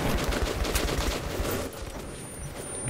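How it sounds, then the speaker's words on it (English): A shotgun firing pellets in the video game Metro 2033 Redux: loud, rapid blasts in a dense, close volley, easing slightly toward the end. "How do you like me shotgun pellets,"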